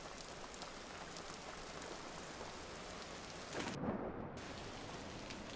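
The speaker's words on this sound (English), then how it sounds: "as soon as we get back to our house, we hear the rain" Steady rain falls in the survival game Vintage Story, a dense even hiss of drops with a low rumble swelling briefly near the end, faint and without voices.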